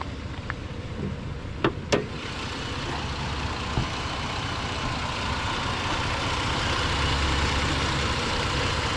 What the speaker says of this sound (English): Why is the Jeep so loud? I don't know. Do I have an exhaust leak or something?